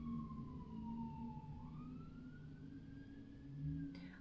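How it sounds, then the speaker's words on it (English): An emergency vehicle siren wails steadily in the distance, its pitch sliding slowly as it passes by over low traffic rumble. "I'm just gonna let that siren go past."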